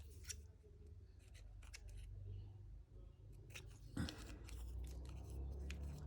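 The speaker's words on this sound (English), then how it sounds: "all I've got to do is snip it" A few short, crisp scissor snips cutting a word out of an old paper page, close and fairly quiet over low room hum, with a louder snip near the middle.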